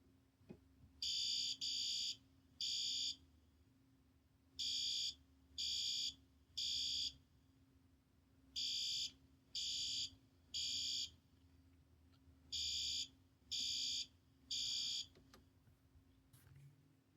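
A System Sensor Spectralert Advance fire alarm sounds a code 3 temporal pattern: four sets of three loud, even electronic horn blasts separated by pauses, over a low steady hum.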